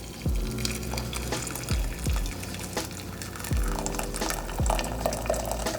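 Boiling water poured from a kettle into a container for iced tea makes a steady, close splashing and filling rush, with a few soft knocks along the way.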